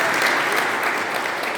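A crowd at a political rally claps enthusiastically, a dense, steady burst of applause at full volume throughout.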